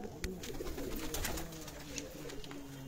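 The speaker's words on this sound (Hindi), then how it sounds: "ये परवाजी कबूतरों के खुडे हैं" Soft cooing of flying pigeons in rooftop coops repeats at close range against a steady rustling background, with brief sharp clicks scattered throughout.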